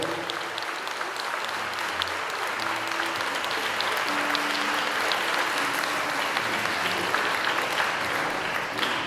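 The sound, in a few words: applause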